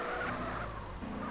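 A Zhiguli car skids while drifting in the MTA video game, with a steady engine drone and tyre scrub running continuously, fairly loud and close, with no talking.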